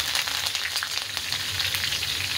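Sesame seeds, red chilli and curry leaves crackling and sizzling in hot oil with cumin and mustard seeds for thin poha chivda, a dense, steady close-up sizzle with light stirring and no voices.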